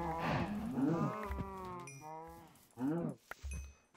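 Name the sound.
cows mooing in the video game Minecraft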